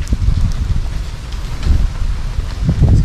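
Steady rain pattering down nearby, with low rumbling gusts buffeting the microphone throughout.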